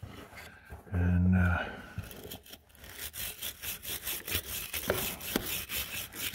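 A stainless steel wire brush scrubs hard across metal parts of a 1956 Massey Ferguson TO35 tractor, giving a close run of rhythmic rasping strokes after a brief louder burst.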